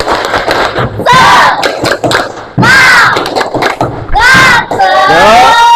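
A classroom of pupils performs a rhythmic clap-and-cheer chant, sharp bursts of group clapping alternating with loud shouted cheers in several rounds, close and energetic.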